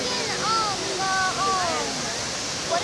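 Roaring rush of the Mirage volcano fountain show in Las Vegas, a steady broad wash of falling water that holds throughout, with people talking and calling out over it.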